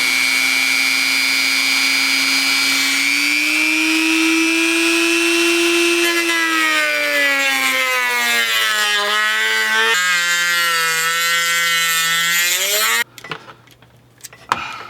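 A small high-pitched drill whines steadily while installing chase lights on a Can-Am Maverick X3 side-by-side, its pitch dipping and rising as it bites, then stops abruptly, leaving faint clatter.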